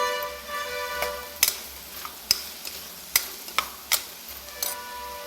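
Beetroot and big onion sautéing in a pan, a soft background sizzle broken by several sharp, irregular scraping clicks of a spatula against the pan, close by and with no talking.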